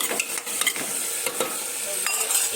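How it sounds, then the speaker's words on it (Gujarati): Carrots, peas and potato roast in oil for a Gujarati sabzi while being stirred, a bright close sizzle broken by brisk scraping strokes at an uneven rhythm, with no voices. "આ બધી જ વસ્તુને આપણે શેકાવા દેવાની છે"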